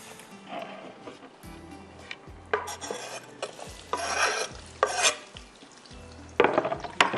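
Onions browning in a pan for beef biryani masala, with intermittent stirring scrapes and bursts of sizzle over a low frying hiss, loud and close, with no talking.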